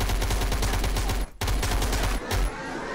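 Gunfire in the space game Starforge, with loud rapid shot bursts in a steady fast rhythm and two short breaks before a quieter tail.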